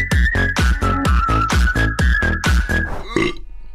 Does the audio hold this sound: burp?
yes